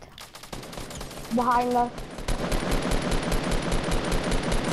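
Fortnite gunfire, with rapid automatic bursts crackling continuously near and loud, and a short tonal pickup chime partway through; a voice speaks briefly over the shooting.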